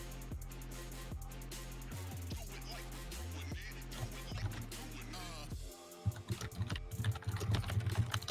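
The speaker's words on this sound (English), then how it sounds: "I gotta mute my mic when I'm typing" Steady clacking on a computer keyboard, close to the mic and fairly quiet, with busy rhythmic keystrokes over faint background game music that briefly breaks off.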